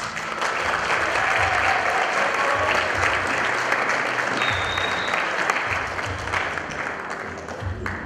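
Loud, sustained applause from a crowd of guests at a quinceañera celebration, a dense continuous clapping that holds steady throughout and eases slightly near the end.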